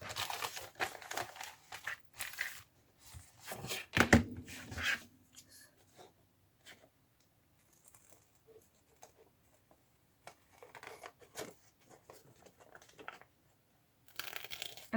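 Paper being folded by hand for the cover of a Valentine-themed tag book journal, with crisp crinkling and creasing bursts in the first few seconds, then quieter scattered rustles and taps, ending in another brief crinkle.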